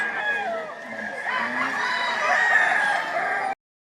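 Gamecock roosters at a fighting-cock market in Lipa, Batangas crow repeatedly, the long strained calls overlapping one another against a dense background of crowd noise.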